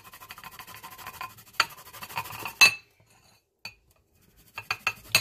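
Garlic scraped over a zester above a plate, a steady run of fine rhythmic rasping strokes for a few seconds, then a few short separate scrapes and clinks after a pause.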